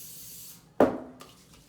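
A single short burst from a handheld spray bottle misting a pair of hands, close and crisp, with a quick hiss that fades within half a second in a quiet room.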